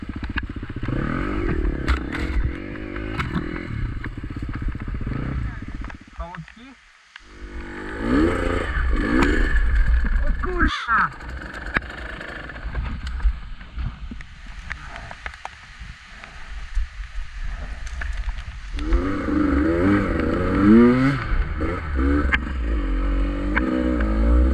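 Dirt bikes, a KTM EXC 150 TPI two-stroke and a Husqvarna FE 250, run steadily nearby with rising and falling revs, some clatter and scraping mixed in, and the engine noise continues throughout.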